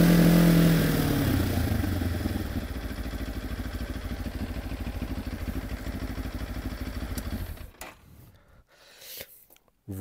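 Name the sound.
Benelli TRK 702 motorcycle engine running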